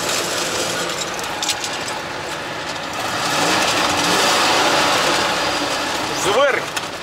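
A GAZ 3307 truck engine idles steadily on its first outing, a continuous rough mechanical drone that stays loud throughout and swells slightly midway, with voices talking nearby.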